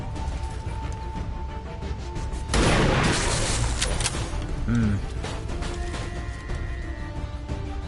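Gunfire in XCOM 2 bursts out in a loud, dense volley lasting about a second and a half, followed by a shorter crack-and-thud near the five-second mark, over a steady game soundscape.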